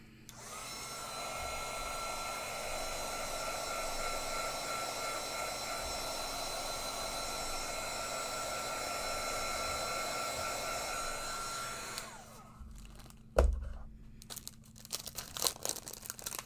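Heat tool blowing steadily over stitched fabric to heat set it, a loud continuous whooshing hum for about twelve seconds, then it switches off, followed by a sharp click and light handling noises.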